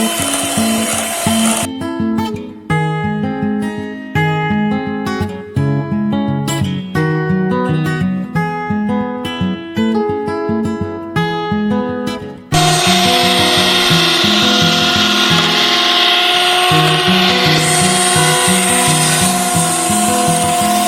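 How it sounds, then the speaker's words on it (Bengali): An electric beater whirs steadily through chocolate cake batter with powdered sugar for a Christmas cake, a continuous grinding drone that grows harsher and louder partway through, with music playing underneath. "আস্তে আস্তে বিট হচ্ছে।"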